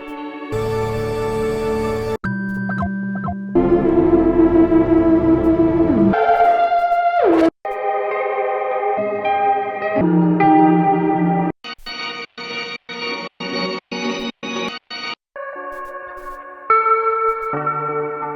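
A string of short melodic electronic music loops plays back to back, each a few seconds long, shifting between warm chords, plucky stabs and choppy rhythmic patterns.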